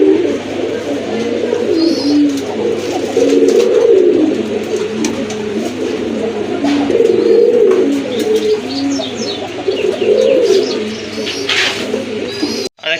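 Fancy pigeons, a large-sized breeding pair, cooing continuously and close up, with overlapping rolling coos and occasional faint chirps in the background.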